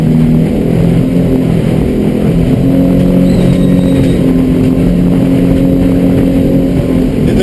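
A 24-foot Edge Sport motorboat runs at cruising speed around 2,500 RPM: a loud, close, steady engine drone with rushing water and wind, holding an even pitch throughout, with no talk.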